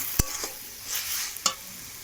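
Fenugreek leaves frying in a pan with eggplant, a couple of sharp scraping stirs standing out over a soft, steady sizzle.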